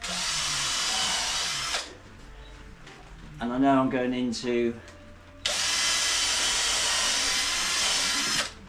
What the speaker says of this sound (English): now I'm just drilling the holes